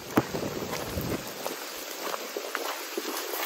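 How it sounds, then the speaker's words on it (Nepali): Rain begins falling suddenly outdoors at a mountain stream source, a soft diffuse patter and hiss with wind buffeting the microphone and scattered footsteps or taps, fairly faint overall. "पानी त आइगयो यार"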